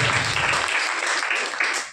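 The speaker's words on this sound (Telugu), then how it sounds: "చప్పట్లు కొట్టి ప్రభువుని." A church congregation claps in praise, a loud, dense burst of applause that holds steady and then begins to taper toward the end.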